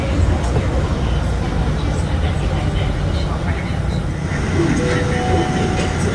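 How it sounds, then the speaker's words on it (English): An airport people mover train hums and rumbles steadily while riding, with a constant low drone and faint high whine; people talk over it. "All right, so we made it on the plane train."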